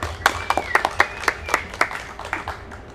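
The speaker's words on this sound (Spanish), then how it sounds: "Un aplauso para vos y muchas gracias por estar acá." An audience claps to welcome a speaker at a public-space event, a run of distinct, fairly close handclaps that is loose and uneven rather than a dense ovation, with no talk over it.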